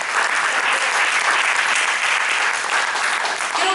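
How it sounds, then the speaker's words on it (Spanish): Loud, steady applause from a church congregation, dense clapping filling the whole stretch without pause, close and full, with only faint voices mixed underneath. "Vamos a darle un fuerte aplauso al Señor"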